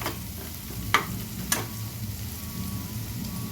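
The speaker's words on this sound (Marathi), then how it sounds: "कांदा छान गुलाबी रंगावर परततोय." Onion sautéing in a pan for moth bean (matki) bhaji, a low steady sizzle with two sharp clinks of a spoon against the pan, no voices.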